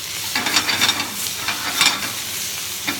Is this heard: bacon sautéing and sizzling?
yes